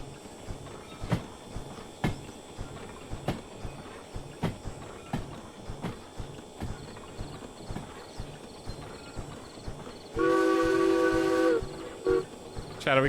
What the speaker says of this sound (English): Is that just what the train sounds like?